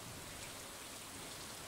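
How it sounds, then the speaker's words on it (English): Steady rain falls in the farming video game Stardew Valley Expanded, a continuous even hiss of drops with no breaks and no voices. "Okay, it's raining."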